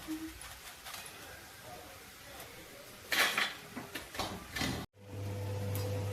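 Fried corn chivda is lifted out of hot oil in a pan, with scraping, clinking metal utensil sounds against the pan in a burst near the end over a background sizzle and faint talk.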